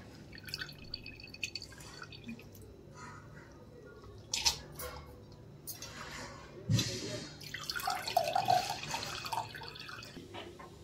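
Washed, freshly grated potatoes being squeezed by hand, releasing intermittent drips and splashes of water into a bowl, quiet and close with irregular bursts.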